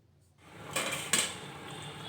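A lid goes onto a pot of rohu fish curry with potatoes, two close metallic clatters in quick succession followed by a low, steady bubbling hiss.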